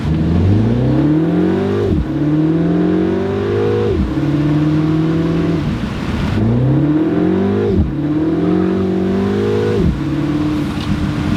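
A Mini Cooper convertible accelerates hard with wheel spin, its engine note climbing loudly through several gears with sharp drops at each shift, heard up close from inside the car.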